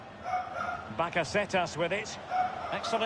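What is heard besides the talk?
dog barking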